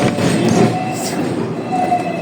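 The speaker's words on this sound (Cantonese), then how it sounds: "呢啲電車好慢㗎。" A seventh-generation Hong Kong electric tram runs along with a continuous low rumble and mechanical drone, a faint metallic whine rising near the end.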